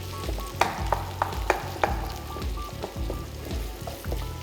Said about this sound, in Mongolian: бяцлаг дүүпүү луунгаа зөөдөртөл нь хуурна